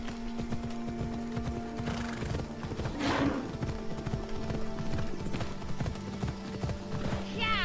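Hooves clip-clop in a steady rhythm as a horse travels in a video game, with a loud neigh in the middle and someone talking faintly over it.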